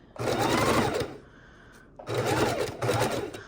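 A sewing machine runs a straight stitch across the top of a Christmas mitten in two close bursts of steady buzzing whir, the second split by a tiny pause, with a quieter gap between them and no talking.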